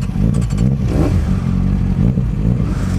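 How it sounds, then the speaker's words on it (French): A motorcycle engine rumbles loudly up close, idling roughly with a brief rev and some mechanical clatter. "allumage moto"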